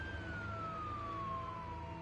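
An ambulance siren in Marvel's Spider-Man 2 sounds faint and distant, one long tone gliding slowly downward over a low background rumble, with no voices.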